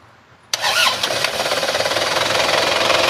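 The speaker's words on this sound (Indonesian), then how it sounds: "Tapi sebelumnya kita nyalakan dulu mesinnya." A 2015 Isuzu Panther pickup's turbo diesel engine cranks briefly after a short quiet lead-in, then catches abruptly and settles into a loud, close, steady idle with a rhythmic diesel clatter.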